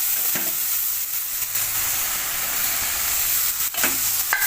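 Tilapia curry base of turmeric, spices and chopped tomato frying and being stirred in a pan, a steady close sizzle with a few scraping stirs throughout.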